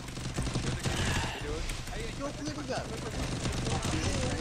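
Automatic gunfire from a 6v6 video game match rattles continuously throughout, dense and loud, with a voice talking over the shooting.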